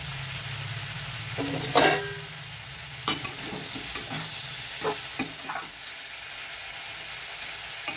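A neem leaf vegetable curry fries in an open pan, a steady low sizzle broken by repeated scrapes and taps of the spatula, one louder clatter early on and scattered knocks later, without speech.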